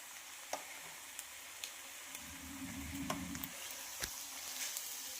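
Egg and spinach bhurji crackles softly in a hot pan, a low, even sizzle broken by a handful of small ticks and spatula taps, quiet and close with no voices.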